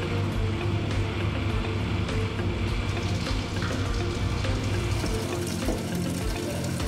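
A pump-driven water jet from a nozzle strikes a target in an impact experiment, a loud continuous rushing spray and splatter that holds steady throughout.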